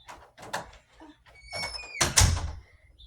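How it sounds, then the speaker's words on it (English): A door swings shut with a solid thump in a home, following some faint household sounds and voices. "Andrew, just close the door, boy."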